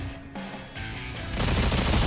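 Rapid bursts of heavy-recoil gunfire from a weapon in the game Stalcraft: X, loud and close, with short pauses between volleys before a sustained, denser stretch of shots.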